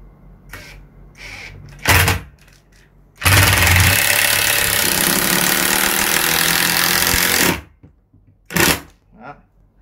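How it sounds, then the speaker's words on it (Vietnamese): Cordless electric screwdriver driving a screw into the leg of a wooden rocking chair, a steady loud whir of about four seconds, framed by shorter clicks and bumps before and after. "Như vậy là chúng ta vừa bắn xong một con vít."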